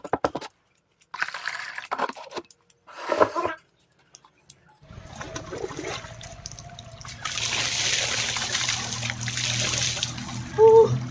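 Cold outdoor water trickles and splashes during a bath, starting with sparse drips and faint handling noises, then swelling into a steady, close pouring stream with a louder splash near the end.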